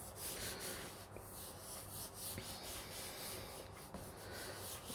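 Paper for a Stampin' Up! card is rubbed by hand to stick it down, producing a faint, soft, continuous brushing scrape with gentle strokes and no speech.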